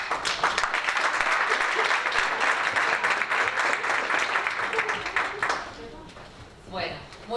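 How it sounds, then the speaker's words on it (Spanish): An audience at a law conference panel claps to welcome a doctor taking the floor, a dense, steady round of applause that fades away after about five seconds, leaving a brief voice at the end. "Así que doctora, la recibimos con un aplauso"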